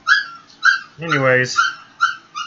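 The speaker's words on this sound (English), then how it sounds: "Ooh, puppy's crying." A young puppy whines and cries in short, high-pitched bursts, close by, repeating several times with a longer wavering whimper in the middle; a person speaks briefly in between.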